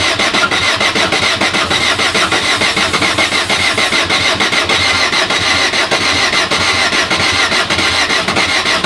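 Glow-plug engine cranked repeatedly without catching, a loud continuous rapid churning from the starter that holds steady for the whole stretch, close up and with no talk.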